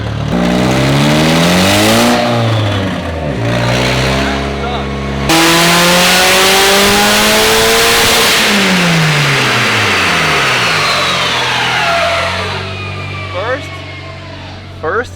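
A turbocharged car with no wastegate fitted pulls hard, its engine note rising and falling through repeated revving sweeps, loud and close, before easing off toward the end.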